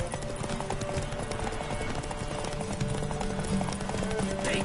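Witcher horse Roach galloping hard, a fast steady clip-clop of hooves running continuously and loud, with a voice shouting over it.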